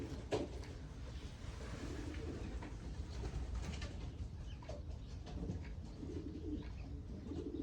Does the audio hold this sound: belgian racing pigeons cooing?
yes